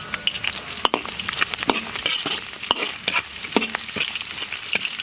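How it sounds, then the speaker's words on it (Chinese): Scallion, ginger, garlic and Sichuan pepper fry in hot oil in a wok, a steady close sizzle broken by frequent sharp crackles and spatula stirring strokes, with no talk. "锅里倒油，下入葱姜蒜， 给来点花椒。"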